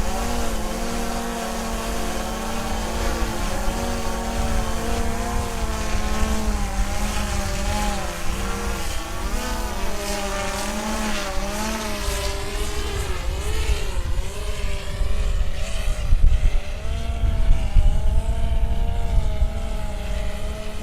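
A SwellPro SplashDrone 4 flies while carrying an extra payload, its motors giving a steady, loud, close whine whose pitch rises and falls as it manoeuvres, with no talking throughout.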